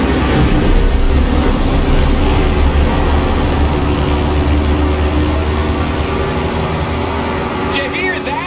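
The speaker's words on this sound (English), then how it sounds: "that is the last inbound cargo flight racing neck and neck with an AMG 1" Cargo plane jet engine roaring low overhead while racing an AMG One in Forza Horizon 5, a loud, sustained broadband rumble and whine filling the whole stretch, with a brief chirp near the end.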